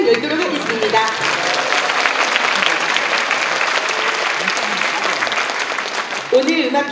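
Loud, sustained applause fills a hall as the audience claps warmly for the opening of a family concert featuring poetry and music, with a host's voice briefly heard at the start and end.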